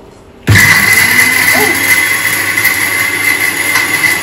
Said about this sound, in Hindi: अभी हम मिक्सी में चटनी को ग्राइंड कर देंगे